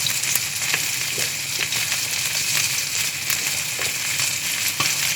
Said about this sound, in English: You see my tilapia is cooking nicely